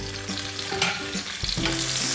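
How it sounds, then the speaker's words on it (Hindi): Long-cut green chilies and finely chopped ginger sizzle and fry in a hot pan while being stirred, with a steady crackling hiss and occasional scraping from the spoon. "इसको सौते कर लेंगे।"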